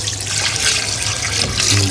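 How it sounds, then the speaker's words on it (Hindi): About two litres of water pour into a cooking pot for lamb namkeen gosht, a steady, close splashing gush with a slight rise near the end. "तो अब हम इसमें तकरीबन 2 लीटर पानी जो है वो इसमें शामिल करते हैं।"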